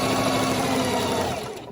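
Sewing machine stitching a ribbon tutu layer, a steady loud mechanical whir with a fast rhythmic needle chatter up close, then slowing slightly at the end.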